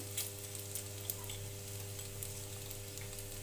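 Taro pieces frying in oil in a pan over medium heat give a steady, close sizzle with a faint hum beneath and a few small crackles and pops, with no voices.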